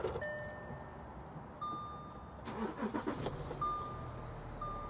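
A 2015 Audi Q7 S-Line diesel cranks and starts with a short burst of engine noise, amid high dashboard chimes that sound before and after, everything fairly quiet.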